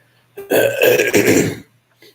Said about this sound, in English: Forgive me, I had to clear my throat.